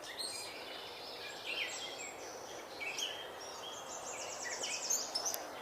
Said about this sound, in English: I think in the distance I'm hearing a wood thrush sing.